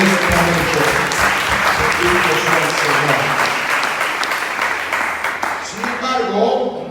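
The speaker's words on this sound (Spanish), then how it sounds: "Un aplauso fuerte para el Señor Dios en este momento." A church congregation gives loud, dense applause that fills the space, then thins out over several seconds while a voice speaks over it.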